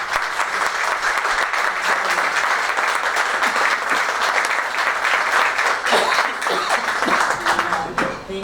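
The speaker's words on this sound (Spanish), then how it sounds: "merece un aplauso" Sustained audience applause fills a lecture hall at a cultural event in San Antonio de Areco, a dense steady roar of clapping from many hands that holds loud throughout and thins slightly at the very end.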